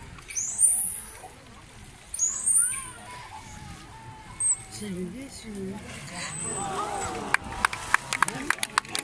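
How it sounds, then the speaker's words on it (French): High, sweeping dolphin signature whistles rise and fall a few times over a noisy background at a marine park show, followed by a burst of rapid clicks near the end. "Il y a des sifflements qui servent aux dauphins à se reconnaître entre eux."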